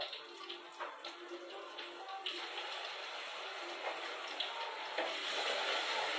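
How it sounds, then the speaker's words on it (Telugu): Fresh ginger garlic paste frying in a pan for chicken curry, a dense continuous sizzle that builds slightly louder toward the end, close up, with no talking. "పచ్చివాసన పోయేంత వరకు వేయించుకోవాలి"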